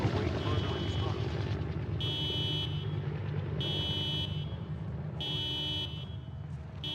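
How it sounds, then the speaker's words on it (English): In the survival game Project Zomboid, a car alarm blares in repeated on-off bursts, evenly spaced over a dense, steady background rumble of engine-like noise. "Why is my car alarm going off?"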